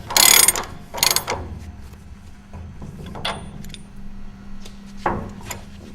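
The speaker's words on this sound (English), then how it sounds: "We'll go ahead and tighten the shaft bolts back up" Ratchet tightening the shaft bolts on a 200mm segmented rotor cassette hub: loud clicking bursts with metallic clanks, pauses between strokes, close up and without talk.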